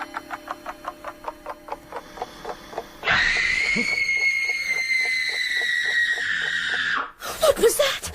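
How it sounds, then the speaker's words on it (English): A long, loud scream cuts in after a quiet ticking rhythm, holding for several seconds before breaking off into gasping sounds, in a period mystery drama scene. "What was that? Scream."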